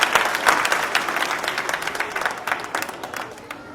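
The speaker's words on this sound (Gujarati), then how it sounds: "એકવાર જોરદાર તાળીઓના નાદથી આપણે આચાર્ય મહારાજશ્રીને વધાવીશું" A crowd gives loud, dense applause to welcome the Acharya Maharaj at a Swaminarayan Hindu temple culture program in Allentown, Pennsylvania. The clapping is steady and close, easing slightly toward the end.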